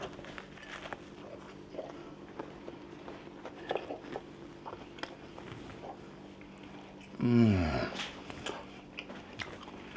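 A single crisp crunch from biting into a fried chicken sandwich with a light batter, close and fairly loud, standing out briefly against a quiet indoor background.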